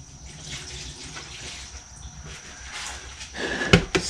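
Coolant from a 2012 Dodge Durango 3.6L pours into a drain pan with a steady close trickle and splash, ending in a few louder clatters and splashes as the flow shifts.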